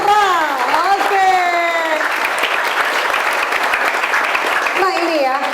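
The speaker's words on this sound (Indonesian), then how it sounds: "tepuk tangan Partai Gelora" Applause from a crowd at a Partai Gelora political show event at an Islamic boarding school, sustained clapping under tonal music or sung notes at the start and end.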